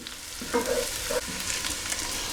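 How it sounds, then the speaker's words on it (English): Garlic cooking in a pan of olive oil and butter while making potato dauphinoise, a steady close sizzle with a few louder stirring scrapes near the start. "Now we want to add our garlic. And again, just cook that through for a minute or so."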